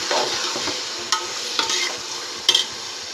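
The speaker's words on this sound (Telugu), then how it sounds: "చికెన్ మ్యాగ్నేట్ చేసుకున్నాం కదా, అది వేసుకున్నా. ఇప్పుడు బాగా మిక్స్ చేసుకుంటాం." Marinated chicken being stirred in a hot pan, a few sharp spoon scrapes over a steady frying sizzle, close up and fairly loud.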